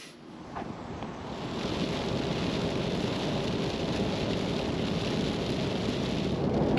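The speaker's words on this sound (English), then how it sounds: "it's been drizzling most of the trip so far, and it looks like it's getting in a bit heavier" Steady heavy rain drums on a pop-top camper roof in bad weather, a dense broadband wash that thickens and grows louder over the whole stretch, with no voices.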